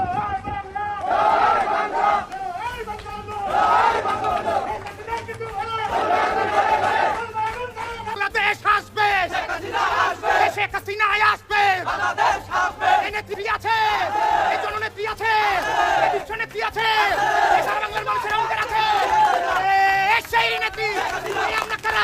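A Chhatra League protest procession in Bangladesh, a dense crowd chanting slogans in loud rhythmic bursts, call-and-response voices overlapping with constant babble and marching movement close by.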